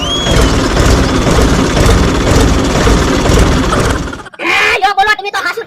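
A farm tractor engine runs loud and close with a steady heavy rumble, then abruptly cuts off as voices take over at the end.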